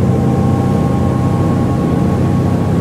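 Twin engines of a 2022 Princess V40 motor boat run at wide open throttle as a loud, steady low roar with a constant tonal drone, mixed with rushing wind and water noise and no break or talking.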